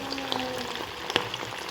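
Potato nuggets frying in oil over a low flame, a faint soft bubbling sizzle with scattered small crackles and pops, no talking.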